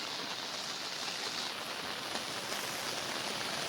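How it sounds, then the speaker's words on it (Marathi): Heavy monsoon downpour in Konkan, a steady, even hiss of rain falling continuously at moderate loudness, with no voices. "एवढा पाऊस लागतोय."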